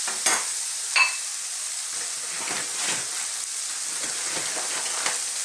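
Softened onions and mushrooms sizzle and fry in a pan for a beef stroganoff, releasing moisture as a steady close hiss, with occasional scrapes of stirring and no voices.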